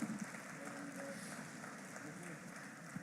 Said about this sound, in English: Can we hear a round of applause and a huge cheer for Mr.